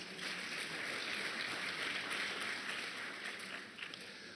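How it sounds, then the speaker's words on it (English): Audience of about 250 people applauding at a Thursday evening community event against antisemitism, a steady, fairly faint wash of clapping that holds throughout and thins slightly at the end. "You should give yourselves a round of applause."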